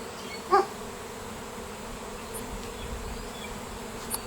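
Honey bees around a newly set swarm trap make a faint, steady outdoor hum, with one brief louder buzz as a bee passes close.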